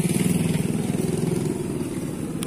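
Old 1980 Mercedes truck engine idling: a loud, close, rough diesel chug with rapid even low pulses, steady throughout with no speech.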